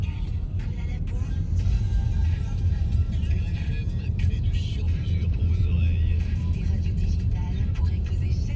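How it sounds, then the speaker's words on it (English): A small car drives along a hilly road in rural France, heard from inside as a passenger: a steady engine drone and low road rumble hold evenly throughout. "I'm getting a lift back down the hill now after that ceremony at Michelle's"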